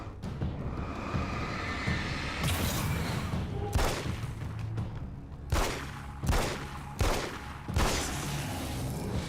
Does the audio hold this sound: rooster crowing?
no